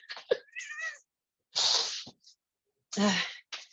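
A close cat meow in a kitchen, followed by sharp breathy bursts like a sneeze or hiss, separated by short silences.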